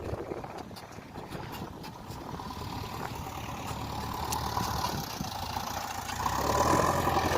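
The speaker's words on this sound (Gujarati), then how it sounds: "રમેશભાઈનું ટ્રેક્ટર અહીંયા ખાલી થાય" A farm tractor engine idles steadily at a rural field while its trolley of soil is unloaded, a low continuous rumble with faint clanks over it that grows a little louder near the end.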